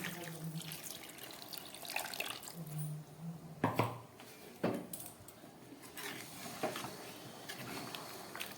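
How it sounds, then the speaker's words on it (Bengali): Water is poured into a pan of chicken curry with potatoes and large leg pieces, a close splashing pour with gurgles and drips that comes in short bursts and then fades. "এবার আর না নেড়ে আমি একটু জল দিয়ে দিচ্ছি"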